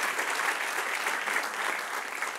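Sustained clapping from a church congregation fills a Spanish-language sermon on maturity and conscience, an unbroken, full round of applause at an even level from start to finish.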